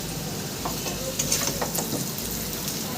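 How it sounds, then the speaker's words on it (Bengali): Spiced potato pieces frying in oil in a kadai, a steady close sizzle with a few stirring scrapes and clinks, no talking. "অন্য কড়াইয়ে দেখো ফ্রেন্ড আমি আলু ভাজতে দিয়েছিলাম দেখো ফ্রেন্ড আলুটা প্রায় আমার ভাজা হয়ে এসেছে"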